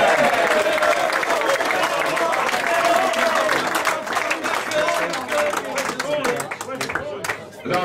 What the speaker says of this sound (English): A big applause for Macca.